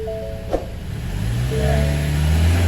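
A car engine revs up and holds a rising, throaty drone, with a brief clunk early on, as the car fails to move forward; no one speaks.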